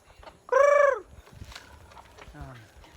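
Chickens being fed in the afternoon on a small farm give one loud, close call that rises and falls over about half a second, followed by softer, scattered clucks and a brief lower squawk.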